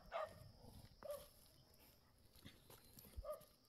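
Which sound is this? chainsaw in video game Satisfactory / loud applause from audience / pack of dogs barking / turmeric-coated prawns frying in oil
pack of dogs barking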